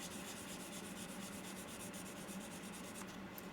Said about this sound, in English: so you keep on sanding